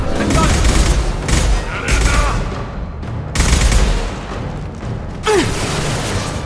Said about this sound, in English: Incendiary fire!